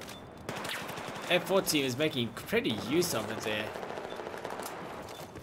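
Rapid automatic gunfire from a Battlefield match rattles in bursts beneath a commentator's continuous voice, fairly faint behind the speech.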